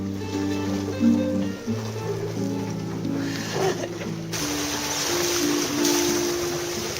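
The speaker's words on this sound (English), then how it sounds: "The squall ran us over, left us with no wind, hence you can hear the sails flopping." Sails flopping on a sailboat left becalmed after a squall while crossing the Atlantic, slack canvas slapping softly over a steady wash of water and creaking rigging.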